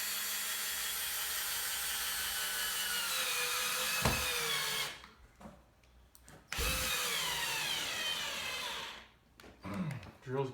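A cordless drill with a weakening battery whines loudly in long continuous runs, stopping and restarting a few times, with brief quiet gaps and a short burst near the end.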